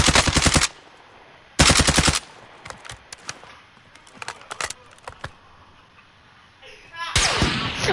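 Gunfire in a shooter video game, with loud close bursts of rapid automatic fire and scattered single shots and thuds in between, and people talking over the action.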